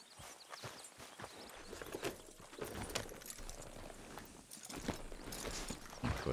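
A horse's hooves clip-clop at a steady walking rhythm in the video game Red Dead Redemption 2, soft and fairly quiet, with little else around them.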